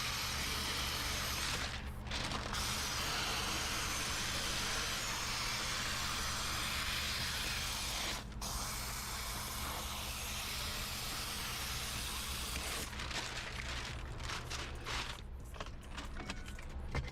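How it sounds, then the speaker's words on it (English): A Wagner handheld steamer hisses steadily and loudly at close range, a continuous broadband rush with a few brief dips and some faint clatter toward the end, used on a 2009 Ford F-150 during window tint work. "This Wagner steamer is awesome."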